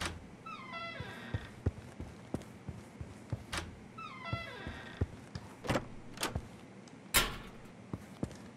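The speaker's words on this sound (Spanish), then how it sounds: "Ah, ese gato de ahí." A cat in the video game The Final Station gives two descending, harmonic meow-like cries, one early and one midway, amid scattered clicks and sharp game effect sounds.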